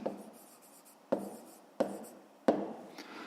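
Pen writing an answer to a fifth-grade maths exercise, quiet scratching punctuated by four sharp taps spaced about a second apart, alone and close.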